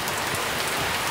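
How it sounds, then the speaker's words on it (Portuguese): Heavy rain with wind falling on a garden planter, a dense, continuous hiss of drops striking surfaces all around, loud and unbroken with no voices. "a chuva tá bem intensa"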